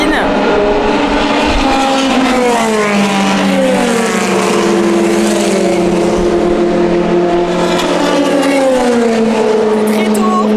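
Race cars at the 24 Hours of Le Mans circuit roar past in the distance, a continuous loud engine drone with rising and falling pitch as they accelerate, heard from a hospitality terrace.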